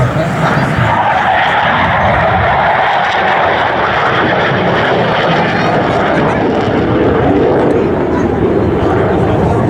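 Dassault Super Etendard jet making a high-speed crossing pass at the La Ferté-Alais airshow, a loud, sustained roaring engine rush filling the whole stretch while an announcer speaks over it.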